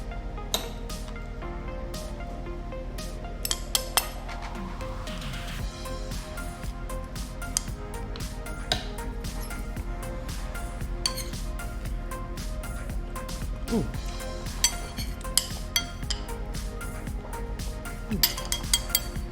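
Cutlery clinks and taps against a plate during a meal of Nigerian food, with scattered sharp metallic ticks over a steady background of room noise and music throughout.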